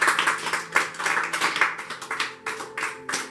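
A church congregation claps together at a Sunday worship service, a dense run of sharp hand claps with a loose rhythmic pulse, fairly close and steady, with no talking over it.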